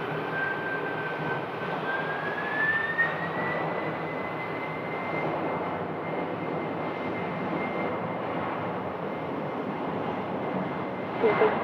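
Jet airliner engines roar steadily through a takeoff run at Phoenix airport on a hot day. A broad continuous rumble and whine holds throughout, with a rising tonal whistle and no speech.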